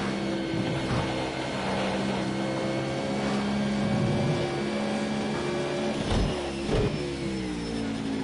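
Racing car engine in Project CARS 2 time trials, a loud, continuous rev that rises and falls through gear changes over several seconds, with no talking.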